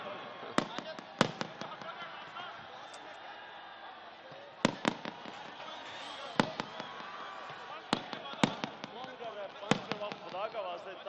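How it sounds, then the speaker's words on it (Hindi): Fireworks bursting over a large outdoor political rally in Sheikhupura, Pakistan: sharp scattered bangs and crackles, some in quick pairs, ring out over a constant roar of crowd noise. "मेरे ख्याल में आज आतिशबाजी देखें,"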